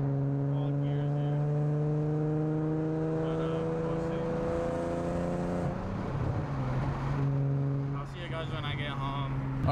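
A Nissan Z with a new clutch drives along the highway, a steady close engine drone that holds a constant pitch and then shifts, with no talking.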